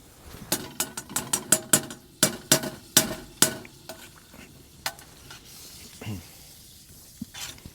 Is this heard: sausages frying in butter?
yes